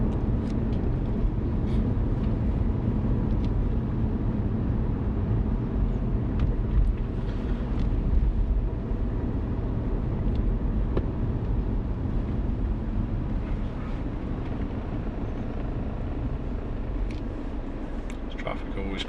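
Busy road traffic in Southampton, heard as a steady low rumble of vehicles moving past, continuous throughout, with people talking at moments over it.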